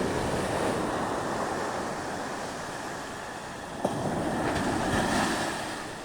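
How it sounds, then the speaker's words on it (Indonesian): Ocean waves wash steadily onto the shore at Legon Pari beach as the tide ebbs, a continuous broadband surf roar mixed with wind buffeting the microphone, with no talk. "ini ombak yang terakhir tuh kan, jadi rata ya, tenang, kelihatannya ombak tenang, lautan tenang itu kan"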